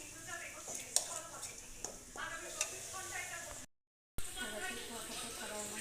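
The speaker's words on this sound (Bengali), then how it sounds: "তরকাটা কড়ার মধ্যে দিয়েছি, ঢেকে দেবো, ফুটে যাবে" Tarka sizzles and crackles in a kadai with a soft steady frying hiss and a few utensil clinks, briefly cut to silence before resuming, while a voice speaks over it.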